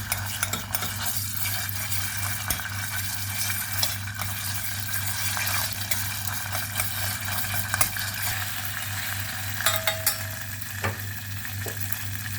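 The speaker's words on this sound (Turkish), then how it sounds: "Sosumuz için 2-3 kaşık sıvı yağ koyduk. 1 kaşık salçayı kavuruyoruz." Tomato paste frying in a few spoonfuls of vegetable oil, a steady close sizzle with occasional stirring scrapes and clinks throughout, no talking.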